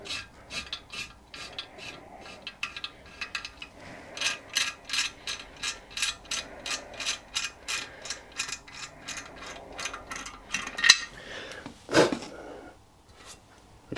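On a Stuart steam engine part, a tap cuts a thread with a steady series of rhythmic ratcheting clicks and scrapes, close and moderately loud, ending in a sharper clatter near the end.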